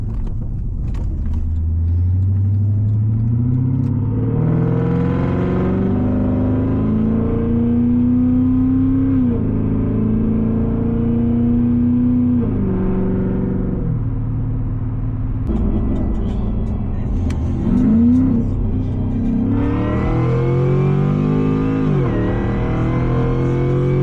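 A Cadillac CTS-V with its exhaust cutouts open to bypass the mufflers roars loudly from inside the car, its deep engine note rising and falling through repeated hard accelerations and gear changes, with no talking.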